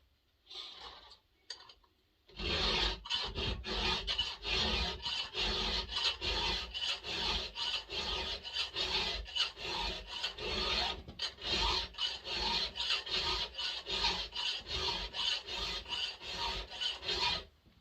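Hand file sharpening a chainsaw chain tooth for cutting firewood, a run of rapid rasping strokes in a steady back-and-forth rhythm, close and crisp, after a few tentative scrapes at the start.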